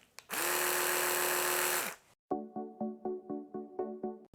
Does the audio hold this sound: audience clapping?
no